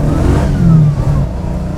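A 1970 Dodge Charger HEMI R/T SE revving hard under acceleration, a loud, steady, close engine roar with a rising pitch in the middle before it settles back, with no voices.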